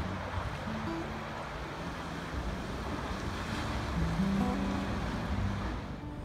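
Waves washing onto the Mediterranean shore at Caesarea, a continuous broad roar of surf mixed with wind noise, steady and fairly loud with a slight swell midway, no voices.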